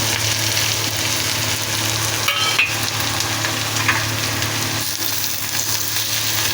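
Garam masala and onions fry in oil for a Malvani-style vatan masala, a steady dense crackling sizzle running throughout with a couple of brief clinks of stirring near the middle, no voices.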